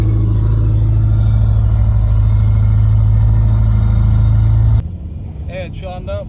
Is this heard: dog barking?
no